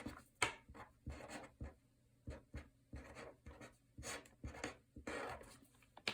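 Pen or marker writing out a formula, a run of short scratchy strokes in irregular bursts with brief pauses between them, close and fairly quiet.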